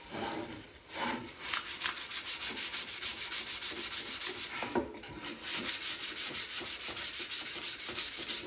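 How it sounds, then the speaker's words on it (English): Wood edges being sanded to a small bevel for a pinball part, with a rapid, even back-and-forth rubbing stroke that carries on steadily and close up, pausing briefly once midway. "Giving the edges a little bevel so they don't splinter."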